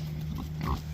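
Feeder pigs grunting in a pen on a small farm, low snorting grunts over a steady hum of background noise, brief and close.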